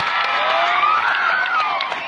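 An audience at a Kannada speaking event claps and cheers steadily, a dense, sustained wash of applause with some whoops at a moderate distance.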